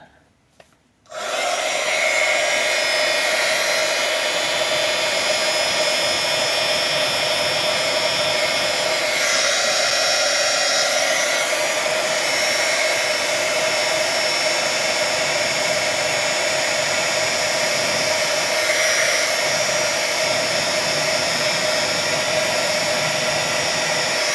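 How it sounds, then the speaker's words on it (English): A heat gun blows steadily and loudly for the whole stretch after a brief quiet start, embossing powder on a Halloween card, a constant close whooshing roar with only slight shifts in tone. "Now we're ready for the heat gun."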